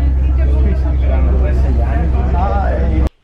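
A Venice water bus travels at night, its engine making a steady low rumble throughout. Voices murmur over it before the sound cuts off abruptly near the end.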